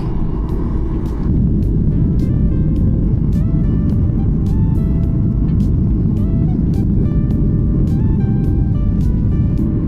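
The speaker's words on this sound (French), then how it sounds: "c'est pas à cette vitesse que tu vas décoller Coco." A passenger plane taxies slowly before takeoff on a flight out of Rennes, its steady, loud engine rumble and whine filling the cabin with little change throughout.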